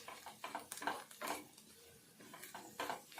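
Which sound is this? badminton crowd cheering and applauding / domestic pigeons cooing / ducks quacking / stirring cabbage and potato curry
stirring cabbage and potato curry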